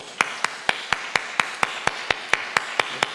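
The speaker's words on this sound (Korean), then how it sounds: "환영하도록 하겠습니다. 박수하겠습니다." A Sunday morning church congregation claps to welcome visitors: about thirteen crisp, evenly spaced claps in a quick steady beat, close and clear with little else underneath.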